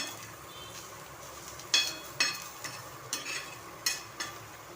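Spice masala with tomato, onion and coconut being roasted in a pan, a soft steady sizzle under sharper scraping strokes of a spoon stirring at irregular intervals, close and moderately quiet.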